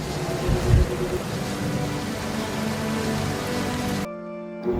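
Steady storm rain pours across a surface in a narrated fantasy tale, a dense continuous wash of drops with low rumbling beneath, cutting off abruptly near the end to a quieter hum.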